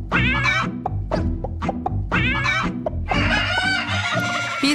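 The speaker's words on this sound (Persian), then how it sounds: "هزار مرغ در این مزرعه زندگی می کنند" Hens on a European smart farm with monitoring equipment cluck and squawk in quick, uneven bursts, loud and close, with several birds overlapping near the end.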